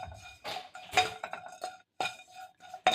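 Tamarind dropped into a pan for dry roasting while making sambar powder, giving a string of light clinks and scrapes of utensil on metal, close and fairly quiet, with brief pauses between.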